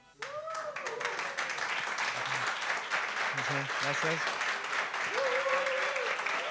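Sustained live-audience applause at a podcast recording in Madrid, dense clapping starting abruptly and holding loud and steady throughout, with a voice speaking briefly over it.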